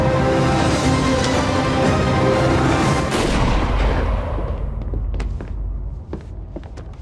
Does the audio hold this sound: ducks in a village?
no